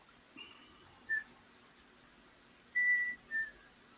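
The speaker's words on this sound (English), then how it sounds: "Who's whistling?" A person whistles indoors in a quiet room. Short, faint notes come in brief bursts, one near the start and two near the end.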